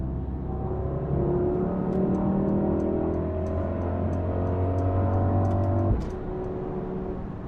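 A 603hp Mercedes-AMG GLS 63 accelerates hard from inside the cabin, its engine drone climbing steadily in pitch for several seconds and then dropping abruptly at a gear change before pulling again, loud and continuous with no talk.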